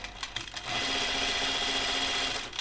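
A sewing machine runs a gathering stitch along a dress, a few short stop-start bursts then a steady fast mechanical whirring close up, running alone without talk.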